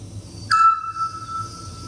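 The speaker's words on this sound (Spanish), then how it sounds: "Tenemos el autillo y la pared delante." A scops owl in front of a wall gives one pure whistled note that lingers and fades as it echoes back, heard alone over quiet night background noise.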